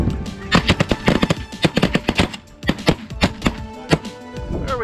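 Rapid, irregular gunshots ring out during a bird hunt, a loud clattering volley of sharp cracks with short gaps between bursts.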